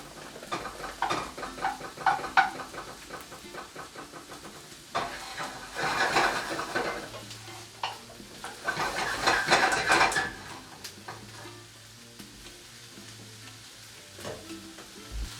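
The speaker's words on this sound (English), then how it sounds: "I am going to melt that authentic Irish butter for the potatoes" A whole stick of Irish butter melts and sizzles steadily in a hot pan for potatoes, with occasional scrapes and clinks of a utensil against the pan and louder surges of crackling.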